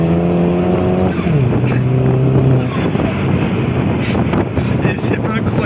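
Opel GT tuned to 450 hp driving at speed, its engine note rising and shifting steadily while strong wind noise rushes over the microphone throughout, loud and continuous.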